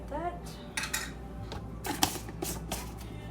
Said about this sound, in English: give it a nice mix gently until it well combined